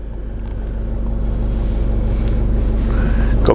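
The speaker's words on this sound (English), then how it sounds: "put your foot down on the clutch, press the power button and away we go" A used Land Rover Freelander's engine started by push button and settling into a steady low idle rumble close by, with a slight rise in level toward the end.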